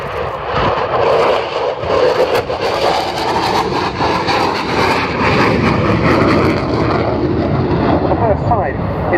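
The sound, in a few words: Ukrainian Air Force Su-27 Flanker jet flying at RIAT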